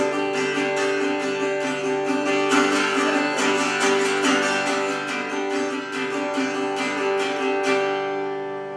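Repeated strummed acoustic guitar chords in a steady rhythm, close and bright, ringing out at the end with no talking.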